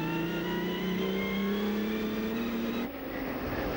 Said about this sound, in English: listen out for the sound of the straight cut gearbox as he accelerates away